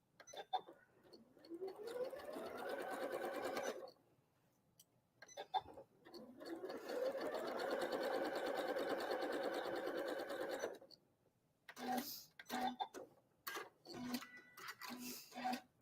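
An electric sewing machine stitches quilt block pieces in two long steady runs, each revving up from slow to a fast rattling hum, followed by shorter bursts and clicks of the machine.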